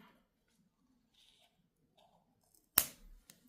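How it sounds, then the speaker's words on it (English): Scissors give one sharp close snip through a decorative strand on a gingerbread decoration, with near silence and faint handling before and after. "And I'll snip that off."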